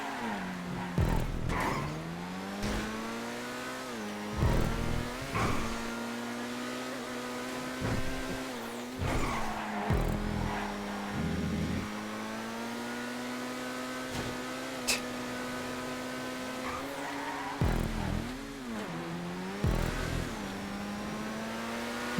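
Supercars racing around a track in GTA 5, engine notes rising and falling through gear changes, revving steadily and loud throughout with brief dips between shifts.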